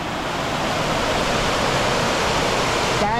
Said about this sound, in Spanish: esta área tiene esa cascada, cae en ese pozo